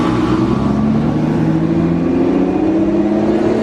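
Aston Martin DBS V12 engine accelerating on a Monaco street, a steady loud rising engine drone with a smooth multi-cylinder tone, close by and without speech.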